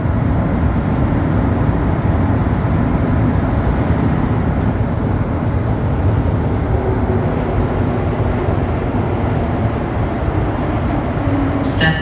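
A Montréal Métro train runs through a tunnel on the way toward Place Saint-Henri station, a loud, continuous rumbling roar with rattling and rushing air from ventilation openings, sustained evenly for the whole stretch.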